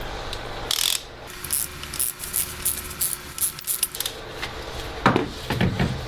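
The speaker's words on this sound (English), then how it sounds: "go ahead and use your ratchet to extract the plug" Up close, a ratchet on an extension clicks steadily as it loosens a long spark plug from a BMW N55 engine. Bursts of rapid clicking are broken by brief pauses, and no one speaks.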